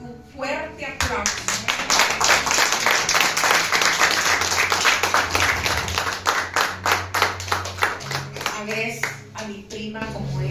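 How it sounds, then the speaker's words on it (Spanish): A crowd at a church testimony gathering breaks into sustained applause, dense clapping that swells and then thins into scattered individual claps, while someone speaks over the start and end. "señores, un fuerte aplauso."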